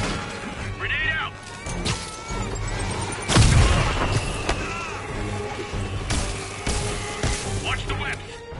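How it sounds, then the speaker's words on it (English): In the Spider-Man video game on PS4 Pro, a grenade blast erupts mid-combat, a sudden heavy boom standing out among scattered gunfire, impacts and shouting voices. "Grenade out!"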